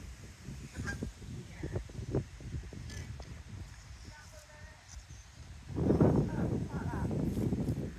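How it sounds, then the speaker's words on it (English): A flock of geese honks repeatedly at Monk Bretton Priory, growing louder and busier toward the end, with cold wind buffeting the microphone throughout. "Yep, we're getting the geese today."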